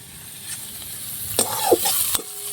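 Vegetable momo filling sautéed in a hot pan, a soft continuous sizzle broken by a few sharp scrapes and clatters as a spoon stirs it, with no talking.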